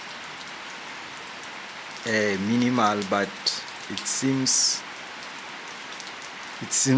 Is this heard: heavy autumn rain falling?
yes